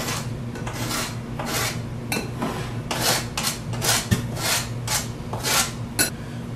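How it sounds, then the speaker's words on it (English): Lemon zested on a metal grater for a Caribbean-style tilapia dish, a series of close, rhythmic raspy scraping strokes, about a dozen in quick succession, with no talk. "I'm gonna do a little bit of lemon zest"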